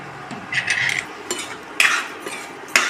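A spoon scrapes and clinks against a metal pan while salt is stirred into mushroom curry, three or four distinct close metallic scrapes with short pauses between them.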